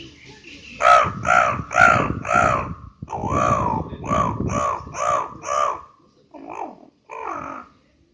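A voice imitates crows cawing: a series of loud, harsh caws in quick succession, close to the listener, trailing off with two softer calls.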